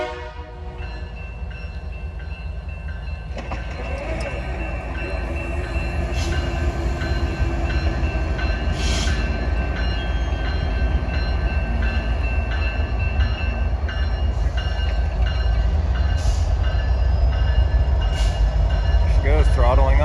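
CP locomotive throttling up, its diesel rumble building from a low idle into a louder, sustained roar, with scattered bright squeals and clanks over the top.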